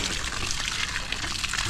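Strong, clear water gushing from a well pump pipe, a dense, continuous splashing rush that stays loud and close for the whole moment.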